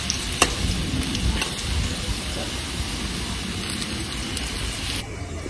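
Potatoes fry in a pan, making a continuous sizzle and crackle with faint clattering, heard close and fairly loud before it drops off sharply at the very end.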